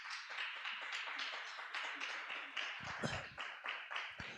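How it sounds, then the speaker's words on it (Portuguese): A church congregation claps along in a quick, steady rhythm, a crowd of hands heard together at moderate distance, with a few louder accented claps near the end. "vamos aplaudir a Jesus"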